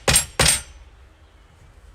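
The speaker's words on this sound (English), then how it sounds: "I'm going to poke some holes in. So I'm using my very special hammer." Two sharp, bright strikes from a special hammer punching holes, evenly spaced a short moment apart and close, followed by near silence and a faint tap at the end.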